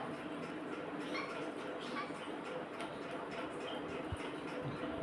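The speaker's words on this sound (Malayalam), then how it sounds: "എൻ്റെ ഡോഗ് കുട്ടൂസ് ഉണ്ട് പുറത്ത്" A dog yelps and whimpers faintly at a distance, mixed into a steady wash of background noise.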